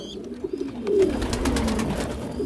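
A female pigeon coos in a loft among pigeon squabs and eggs, low soft warbling calls repeating close by under steady background hum, with faint chirps from other birds.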